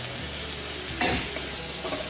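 Steady, loud sizzling of frozen peas frying in hot oil tempering, with a spoon scraping through the pan about midway.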